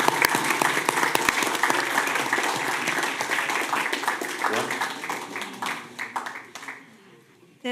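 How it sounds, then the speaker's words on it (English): Audience applause fills a city commission meeting room in Boynton Beach, Florida: dense, steady clapping from a crowd that thins and fades out toward the end. "Can we give them a round of applause?"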